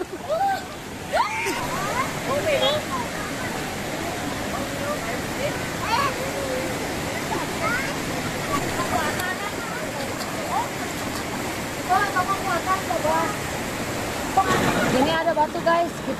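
Swimmers splash in a clear mountain stream at the foot of Mount Gede Pangrango, with steady rushing water throughout and scattered sloshing bursts near and loud, while voices talk and call out over the flow.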